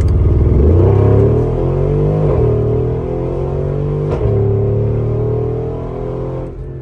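A 2013 Mercedes G63 AMG fitted with catless downpipes and new mufflers accelerates hard, heard from inside with a loud, deep, rumbling engine climbing through several gear shifts before easing off.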